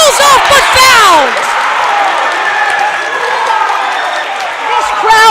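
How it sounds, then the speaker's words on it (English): A crowd at a middle school boys basketball game cheers and whoops loudly, with clapping and excited shouting filling the gym and swelling again at the end. "This crowd is hyped!"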